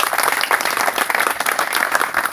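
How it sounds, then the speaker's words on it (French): A church congregation at a pastors' conference claps and applauds steadily, dense and fairly close, with no voices standing out. "Applaudissons encore pour le Seigneur"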